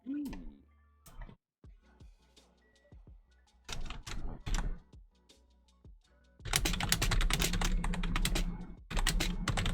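Keys clatter on a computer keyboard, starting with sparse taps and short bursts, then building into fast, dense typing up close.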